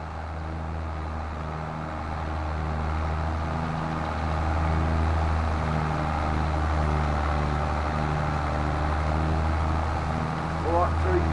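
A tractor fitted with wheel weights, from Farming Simulator 22, runs with a steady low engine drone that holds throughout, close and continuous, with someone talking over it.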